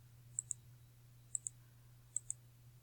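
A computer mouse clicks in three quick pairs, crisp and close, over a faint steady electrical hum in an otherwise quiet room.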